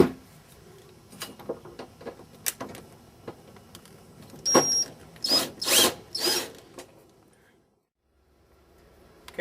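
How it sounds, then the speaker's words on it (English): A power tool tightens bolts on a Can-Am Commander UTV spare tire carrier. Several short close bursts of whirring come first, then three louder longer runs, then quiet. "I'm going to leave everything kind of loose until I get all the bolts started, then I'm going to tighten everything up."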